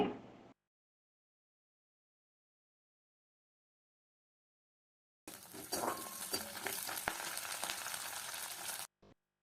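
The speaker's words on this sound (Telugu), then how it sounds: "చూడండి పచ్చిమిర్చి కూడా చక్కగా వేగింది కరివేపాకు వేయాలి" Curry leaves hit hot tempering oil that already holds fried green chillies, for a poha fry. After a long silence a loud, crackling sizzle bursts out and continues steadily for several seconds before stopping.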